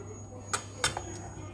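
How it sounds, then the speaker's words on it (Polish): A spoon scrapes and knocks against a pot while thick honey cake pudding filling is stirred, giving a few sharp metallic clinks over a low steady hum. "Mieszamy intensywnie"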